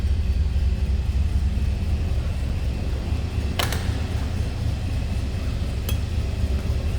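A 1964 Oldsmobile 98 convertible's engine idles steadily, a low, even rumble heard from nearby, with two brief metallic clinks partway through.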